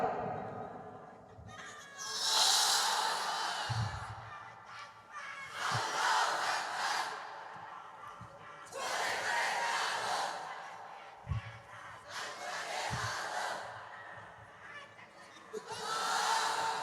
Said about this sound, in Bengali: এবার তাকবীর দাও।